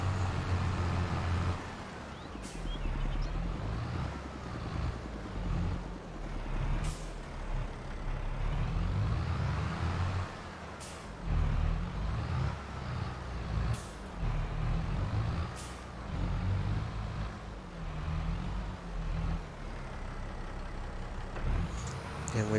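In Farming Simulator 22, a dump trailer unloads stones with a low, steady engine rumble and grinding drone, broken by periodic sharp hissing air-brake bursts, no talking over it.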